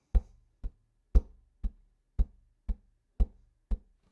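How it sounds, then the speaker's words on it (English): Eight percussive taps on the wooden body of a guitar mark the beat and the offbeats, with the on-beat knocks slightly heavier, close and dry with no speech. "This time we're going to tap the beat plus we're going to tap the more layer in there."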